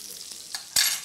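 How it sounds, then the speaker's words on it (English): Onion rings sizzle in a frying pan with a steady hiss, then a louder burst of sizzling near the end, close up. "you can see they are sizzling already."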